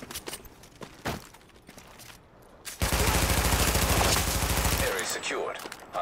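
Gunfire in The Division: a few scattered single shots, then a sustained loud burst of rapid automatic fire lasting about two seconds, followed by quieter shuffling and movement.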